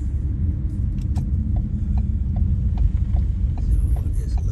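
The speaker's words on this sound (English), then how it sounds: "Got a car coming up behind me." A car approaches from behind on a road while cruising in Vermont, a steady low rumble of engine and tyres that holds close and loud throughout, with no talk.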